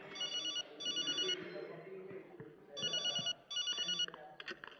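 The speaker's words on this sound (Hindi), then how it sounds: "अरे मेरा फोन!" A telephone rings in a film scene, sounding in two pairs of bright, even bursts with a short pause between them, over quiet background voices and room noise.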